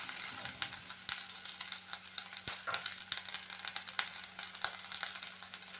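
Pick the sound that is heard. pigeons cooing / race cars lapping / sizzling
sizzling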